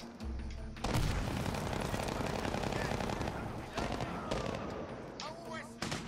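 Machine-gun fire in Medal of Honor Warfighter rattles in loud, rapid bursts with booming impacts, broken by brief pauses, while someone speaks over the fighting.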